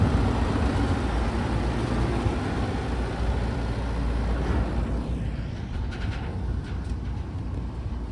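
Refrigeration unit on a refrigerated rail car running steadily outdoors at a railyard, a loud, even mechanical drone and roar that holds throughout, with a few faint higher rattles near the end.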